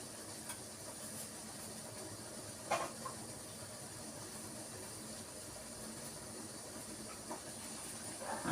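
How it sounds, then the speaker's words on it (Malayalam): Water boiling in a pot, a quiet, steady hiss and rumble of bubbling with a couple of faint knocks, heard alone without talk. "വെള്ളം തിളച്ച് വന്നിട്ടുണ്ട്."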